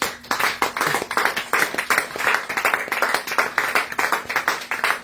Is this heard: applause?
yes